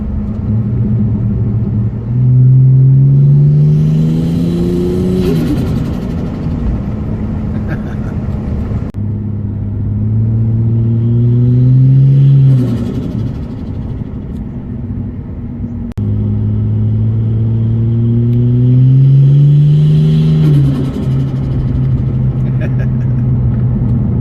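Three repeated revs from a Ford BA XT Falcon turbo fitted with an ANTZ Performance Turboside intake, each climbing to a loud, close drone and falling away with an intake whoosh between them.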